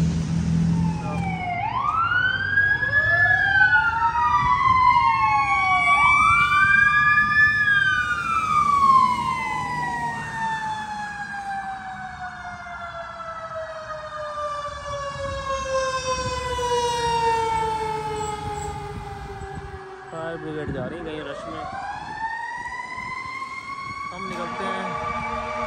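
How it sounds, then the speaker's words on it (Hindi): Fire engine sirens wail and yelp loudly through a city street in Charlottetown, Prince Edward Island, rising and falling in overlapping sweeps as they pass close by, with traffic rumbling underneath. "कुछ फायर ब्रिगेड जा रही है कहीं"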